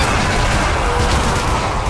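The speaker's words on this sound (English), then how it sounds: "That explosion is probably the reaction to the other ones." Explosion in the video game Zombie Army Trilogy, a loud, dense, continuous roar of blast and crackling gunfire-like bursts that fills the whole moment without a break.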